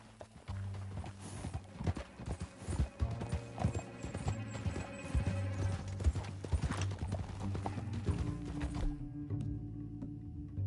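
Horse hooves clip-clop at a fast gallop in a video game, a loud, rhythmic patter with a brief whinny and mechanical noises behind it. The sound stops abruptly near the end.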